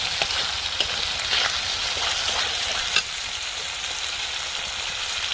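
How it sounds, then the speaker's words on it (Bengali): Spice paste with tomatoes fries in oil with a dense, steady sizzle, punctuated by occasional stirring scrapes and a sharper clack near the middle, close and continuous with no voices. "এই যে মশলাটা কত সুন্দরভাবে কষানো হয়ে গেছে সাথে তেলও রিলিজ হয়ে গেছে"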